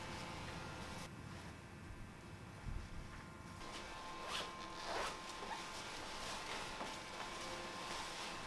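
The zipper of a hospital standard body bag closes on a deceased patient during Ebola handling: a faint, quiet rasping pull against a low background hum.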